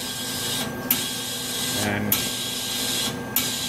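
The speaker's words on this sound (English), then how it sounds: "what it's doing is bringing the gas from inside the glove box into the antechamber to bring it up to atmospheric pressure" MBraun Labmaster 130 glove box antechamber refilling with gas from the box up to atmospheric pressure: a steady close hiss and mechanical hum with brief clicks and short gaps repeating about every second and a half.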